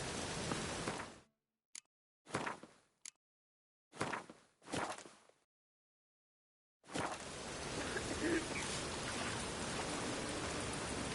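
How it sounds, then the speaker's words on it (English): Steady rain hisses in The Witcher 3, a broadband wash that cuts out abruptly several times, leaving brief bursts between gaps of silence, then returns as a continuous downpour that runs to the end. "Lots of fuss over lots of rain."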